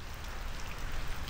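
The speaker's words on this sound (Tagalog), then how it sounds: "Sobrang lakas na naman ng hangin dito sa lugar namin no." Rainy-season weather with strong wind, heard as a dense, steady broadband rush and patter of rain that fills the whole short stretch without any voices.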